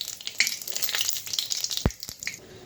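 Panch phoron and dried red chilli frying in hot mustard oil in a kadai, a close hiss of sizzling with spitting crackles and a couple of sharp clinks of a utensil against the pan.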